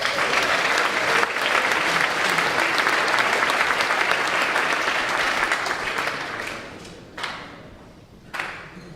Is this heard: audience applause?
yes